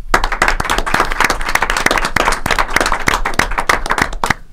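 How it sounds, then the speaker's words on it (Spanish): Audience applause for the author of a winning short story at a story-contest awards event, dense steady clapping from many hands lasting several seconds with no voices. "¿A quién aplaudimos?"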